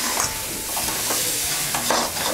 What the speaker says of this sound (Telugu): అడుగంటకుండా మొత్తం ఇలా కలుపుకోవాలి.